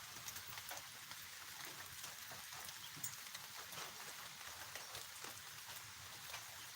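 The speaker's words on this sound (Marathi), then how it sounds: "आज देखील हवामान अंदाज या ठिकाणी कोरड्या वातावरणाचा असताना देखील मोठ्या प्रमाणात पाऊस चालू आहे" Steady rain falling and pattering on surfaces, a continuous even hiss with scattered drop sounds, fairly faint and with no voices.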